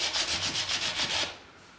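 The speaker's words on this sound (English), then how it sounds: "Just take a little sanding block," A small sanding block with sandpaper scrubs over Robert's Wood Putty in quick, even back-and-forth strokes, about eight rhythmic rasps close by before stopping abruptly.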